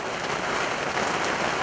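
Heavy rain pours down on a spring day outdoors, a dense, even roar of drops hitting surfaces nearby, loud and unbroken with no voices over it.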